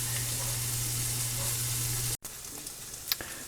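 Eggs frying over easy in a pan beside roast beef hash, a steady close sizzle with a low hum beneath, briefly cutting out before resuming with a few soft pops and crackles.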